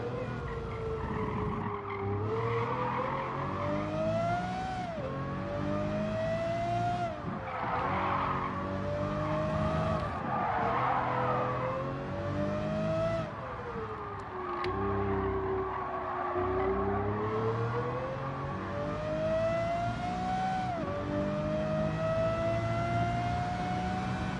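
A Lamborghini in Gran Turismo 7 races with a steady high engine whine that rises and falls with gear changes, joined by repeated tire squeals and skids at close range.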